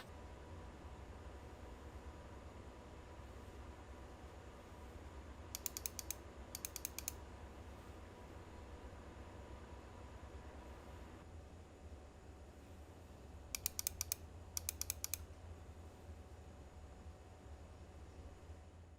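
Fans and a liquid-cooling pump run in a compact Lian Li O11D Mini gaming PC with a 5950X under a heavy 4K graphics benchmark, giving a faint, steady hum with a few light clicks.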